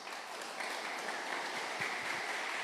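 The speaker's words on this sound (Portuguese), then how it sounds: "Pode aplaudir a Deus por isso ou não?" A church congregation breaks into a soft, sustained patter of clapping, steady and somewhat distant throughout.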